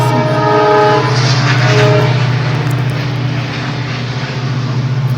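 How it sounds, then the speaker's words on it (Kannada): A train runs past on tracks right beside a house, its horn sounding loud and steady over a deep rumble for the first couple of seconds before the horn drops away and the rolling noise continues. "ಗೈಸ್, ನಮ್ಮ ಮನೆ ಪಕ್ಕದಲ್ಲೇ ಟ್ರೈನ್ ಹೋಗುತ್ತೆ."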